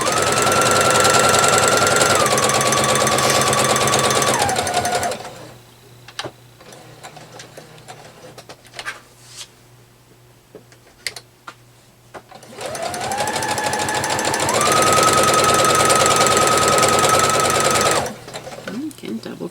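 A sewing machine stitches quilt block seams in fast, steady runs, stopping for a quiet pause with soft handling noises before starting again, close and loud. Someone talks during the stitching.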